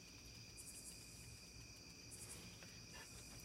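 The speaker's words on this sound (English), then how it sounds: "It sounds like a beetle, or like crickets when they like rub their legs together, but it's not, it's a frog." Small frog calling like a cricket, faint rapid trilling chirps in short bursts, repeated a few times over a steady high insect-like drone outdoors, with no voices.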